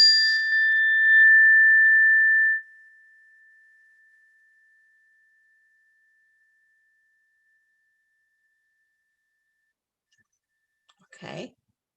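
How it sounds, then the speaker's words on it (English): A single chime is struck once during a wellness break, giving a bright metallic ring that sustains and slowly fades for several seconds into silence, followed near the end by a brief soft rustle. "I'm going to hit the chime once."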